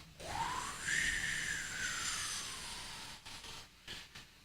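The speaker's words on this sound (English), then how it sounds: "I think that this fan is too high. I can hear it whistling" A fan running at too high a speed gives off a steady airy whistle with a tone that rises and then slowly drifts down, over a constant rushing hiss, close and fairly loud, with no one talking.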